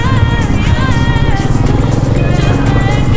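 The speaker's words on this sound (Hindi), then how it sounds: "रेविंग अप ऑफ बाइक्स, ऐसी जगह तो आवाज़ बहुत सुंदर है" Royal Enfield Meteor 350 motorcycles rev on a group breakfast ride, a loud, close, continuous engine drone with rising and falling pitch.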